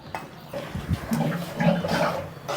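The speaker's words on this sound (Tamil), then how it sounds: "இப்போ ஒரு சொம்பு தண்ணி ஊற்றுற பாருங்கள், சின்ன சொம்பில்." Water poured from a small metal pot splashes and gurgles into a cooking pot of dried fish curry, a short uneven stream close by with some background noise.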